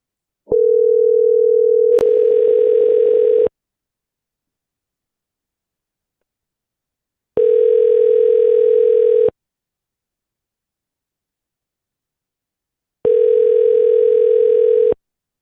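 An outgoing phone call rings over the line as three loud, clean ringback tone bursts, each about two seconds long and separated by silence. A brief click comes before the first ring.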